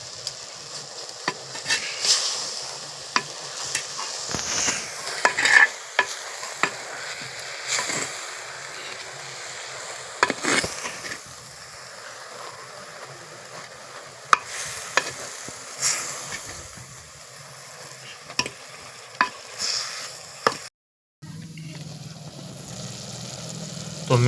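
Vasseti greens with salt are stirred in a pan, with a soft, continuous sizzle broken by scraping strokes of the spoon at irregular intervals and a brief pause near the end.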